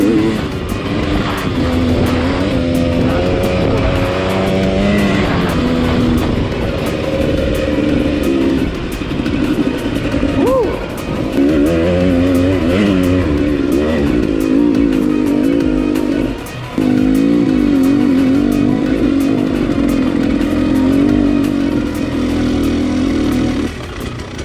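A 2016 KTM 300 EXC hard enduro motorcycle's engine revs loudly and continuously, its pitch rising and falling through repeated throttle blips and accelerations, close to the listener with no talking.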